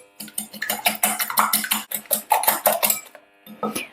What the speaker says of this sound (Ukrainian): У миску до 4 яєць всипаємо сіль та цукор і збиваємо вінчиком до однорідності